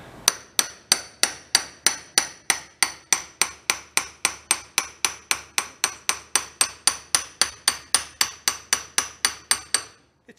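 A hammer taps an engine part into place on a build of two blown-up engines joined together, about thirty sharp, evenly spaced metallic strikes in a fast steady rhythm, close and loud, ending with a couple of lighter taps.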